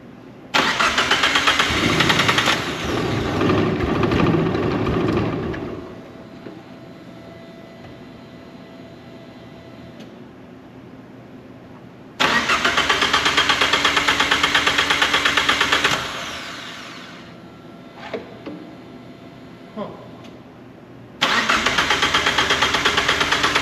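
Engine of a Deep Orange 3 car, first started after more than ten years, catching and revving hard in two loud bursts and a later third, easing back to a low idle between them, close and with no talking.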